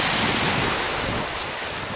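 Ocean waves crash and wash steadily at a harbor shore, a loud continuous surf roar with some wind noise on the microphone, no voices.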